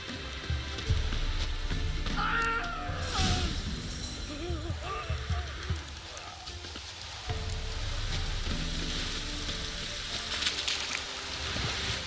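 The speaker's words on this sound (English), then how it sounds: "Looks like rain." Steady rain hiss in The Witcher 3 on cursed Fyke Isle, a broad wet wash running the whole time beneath game music and fragments of voice.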